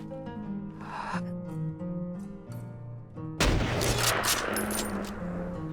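Rifle gunfire from a PUBG weapons mod in Skyrim, a loud sharp shot that booms and rolls out over game music, heard once near the middle.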